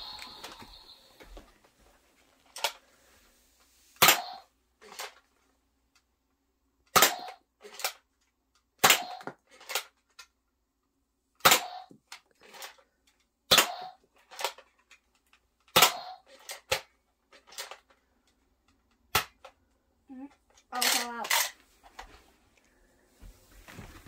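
Fortnite 6-SH Nerf dart blaster firing foam darts at a target, about a dozen sharp, close snapping shots spaced one to two seconds apart, alone without talk.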